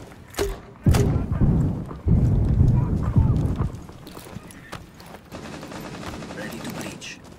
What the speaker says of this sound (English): Placing cluster charge.